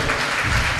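Congregation at a Telugu Christian sermon clapping loudly, a dense, continuous burst of applause that fills the short moment without a break.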